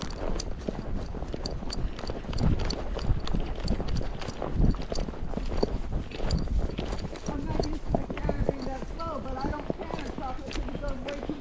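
Quick, even hoofbeats of a Tennessee Walking Horse racking, a steady rapid clip-clop heard close under continuous talking and some wind or movement noise.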